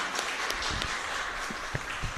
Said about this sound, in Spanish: un fuerte aplauso para ustedes aquí